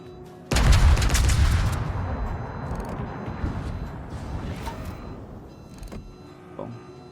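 Heavy cruiser Azuma firing its main guns in the naval game World of Warships, one sudden loud booming salvo that rumbles and slowly fades, followed by lighter distant blasts and clatter.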